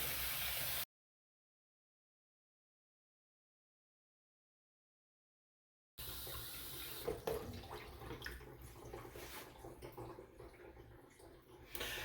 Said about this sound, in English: you hear water going down the overflow, so we're at maximum volume for the sink